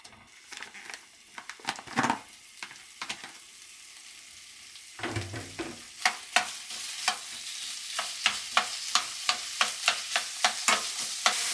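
Meat stir-fries in a hot frying pan for curry rice, with a constant crackling sizzle and a run of sharp, evenly spaced scraping and tapping strokes that grow more regular and prominent toward the end.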